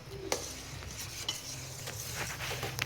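Cashew powder being stirred into a sweet dessert mixture in a pan, with soft scraping and clinking of a spoon against the pan, a faint sizzle underneath and a few sharper taps.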